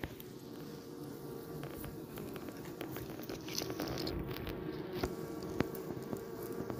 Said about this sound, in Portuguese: Vou mostrar pra vocês como é que tá o enxame.